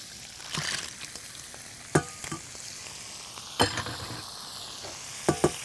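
Clams frying in butter in a pan, a gentle close sizzle with a few sharp clacks and scrapes of a utensil stirring at irregular moments, with no voices.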